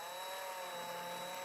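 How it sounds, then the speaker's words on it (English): Small drill boring a hole through a thin piece of styrene plastic for an HO scale model layout, a steady high whining buzz, faint and continuous with no talking. "The first thing I do is drill a hole through the piece of plastic"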